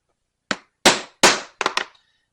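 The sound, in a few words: punching rivet holes through leather backpack straps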